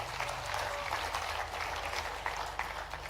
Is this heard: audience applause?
yes